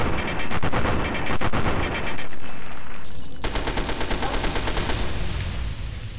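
Sustained automatic gunfire in Fallout 3, loud and dense bursts rattling on almost without pause, a brief lull near the middle before rapid fire resumes.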